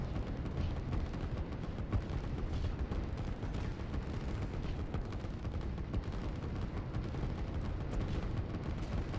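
Continuous distant booms and rattling gunfire from artillery of entrenchment units in the strategy video game Line War, a dense, even barrage with no clear breaks and no talk.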